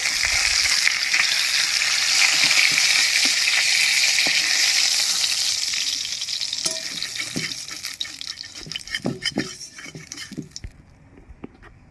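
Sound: tilapia fish frying in oil

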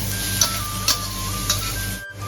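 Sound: dried chilies being roasted in a pan

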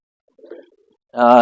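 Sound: pigeons cooing and fighting

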